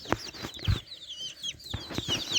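Young chickens cluck and cheep close by on a farm in western Ukraine, soft clucks and high chirps scattered over a quiet background.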